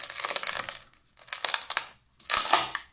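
Foil seal on a new jar of Nutella hazelnut spread being torn open up close, in three loud, crinkly bursts separated by short pauses.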